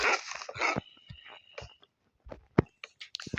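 A pet dog in a hardcore-mode Minecraft game whimpers in several short, whiny bursts mixed with other quick game noises, fairly close and moderately loud.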